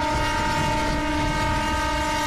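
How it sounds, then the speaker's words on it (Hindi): A passing 9-car local EMU train on the Sealdah–Dankuni route in Open Rails, a close, steady roar of wheels and motors with a sustained tonal horn note throughout. "साइड से एक और लोकल ट्रेन आ रही है"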